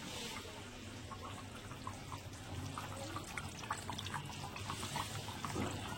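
A pot of country chicken simmers on the stove, giving a faint, steady bubbling and gurgling with small irregular pops throughout, quiet and close.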